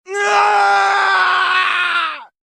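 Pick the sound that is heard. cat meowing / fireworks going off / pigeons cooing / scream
scream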